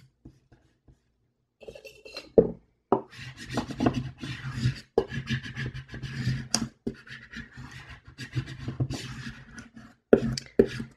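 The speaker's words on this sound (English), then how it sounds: "it's a scraper tool, and I got this from Dollar Tree. But yeah, just a little scraper tool." A small Dollar Tree scraper tool rubs 3D stickers onto a Happy Planner page, making quiet close scratchy rasping strokes in irregular bursts, with a few light taps and no talk.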